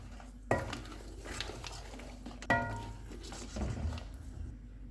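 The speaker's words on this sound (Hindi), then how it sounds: "ग्राइंड किए हुए बादाम, खसखस और कोकोनट डालेंगे, फेंटा हुआ दही, इनको मिक्स करेंगे।" Ground almonds, poppy seeds, coconut and whipped yogurt are stirred together in a pot for mutton korma, with a few sharp spoon knocks against the metal and soft scraping between them.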